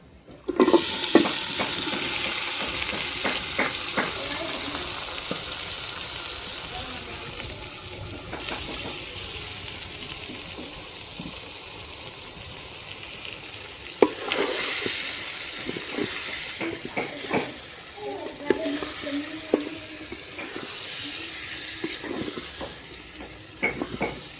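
Chana dal and boiled meat stirred into browned onions frying for tehari, a steady close sizzle with scraping stirs and clinks of a utensil against the pot throughout, no talking.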